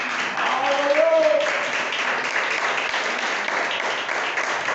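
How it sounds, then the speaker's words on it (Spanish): A church congregation gives a sustained round of applause during a pastor's sermon, a broad wash of clapping with a brief tonal voice-like sound early on. "Yo creo que eso se merece un aplauso"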